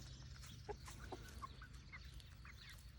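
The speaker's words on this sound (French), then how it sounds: "Ce sont des poules Sussex." Sussex hens, white with a little black, clucking softly: a few short, scattered clucks over a low steady background hum, quiet and fairly close, with no talking.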